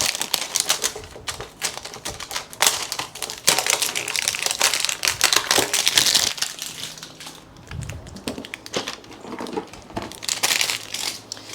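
Tape is peeled and torn off the cord of a curved MSI gaming monitor during a teardown, a long run of close, dense crackling, ripping and crinkling with sharp ticks throughout.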